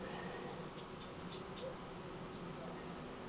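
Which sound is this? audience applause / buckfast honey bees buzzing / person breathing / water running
buckfast honey bees buzzing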